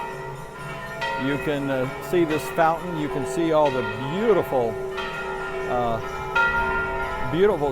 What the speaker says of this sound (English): You can hear the church bells in the background here at noon.